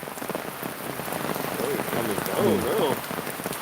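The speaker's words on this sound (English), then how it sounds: "Can you guys hear me all right, or is the rain too loud?" Heavy rain patters steadily on surfaces outdoors, a dense, constant hiss close around, with a voice faintly speaking partway through.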